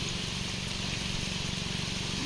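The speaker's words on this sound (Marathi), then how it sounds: "हा बघा आता इकडे पडू लागला। रिमझिम पावसाच्या सरी पडती धरतीवरी।" Light drizzle falling on a village in the Konkan countryside near a creek, a steady, soft, even hiss of rain that continues without a break, with no voices over it.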